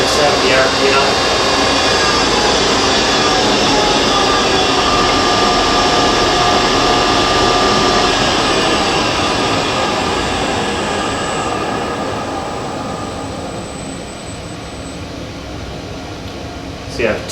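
A Monarch lathe spindle runs at high speed, 370 RPM, giving a steady, loud mechanical whine and hum that gradually winds down toward the end.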